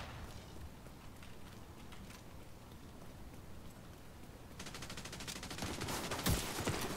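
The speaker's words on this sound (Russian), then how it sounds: "человек стреляет" Gunfire in a multiplayer video game, a rapid crackling burst of shots that grows denser toward the end, over a steady noisy background.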